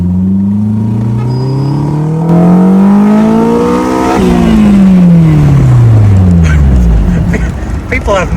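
Honda S2000 engine fitted in a 1953 MG TF revs hard, the pitch sweeping up and falling back in repeated loud pulls, close and continuous for the whole stretch.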